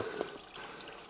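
Spring water trickles and splashes down over rocks at an old spring, a soft, continuous dribbling close by with a few brighter drips, no voices.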